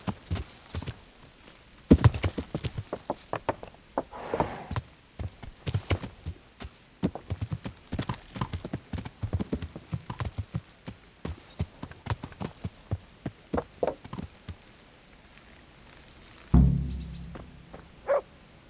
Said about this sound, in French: Je vous ai ramené un cheval.